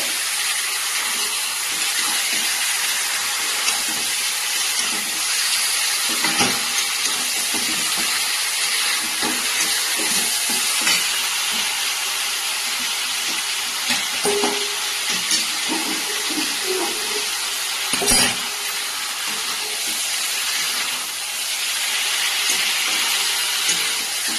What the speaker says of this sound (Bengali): সেদ্ধ করে জল ঝরিয়ে রাখা ওলের ডাটা আর পাতাগুলো দিয়ে দিলাম তো এবার নাড়াচাড়া করতে থাকবো